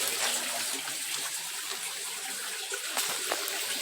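Filtered water from a worm-based aquarium filter flows steadily back into the sump, a continuous broadband splashing and trickling rush that stays even and close throughout.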